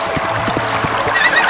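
A horse neighs in a Barbie horse-riding video game, its whinny heard over steady hoofbeats and a faint background score, fairly loud and close throughout.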